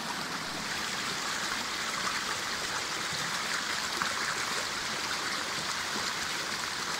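Steady river water pours over a natural weir beside a waterwheel pump setup, a continuous close rushing and gurgling flow with no other sounds.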